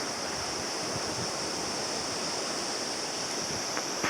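Ocean surf at night rolls in a continuous, loud broadband roar that stays steady throughout, with a hint of wind and no voices.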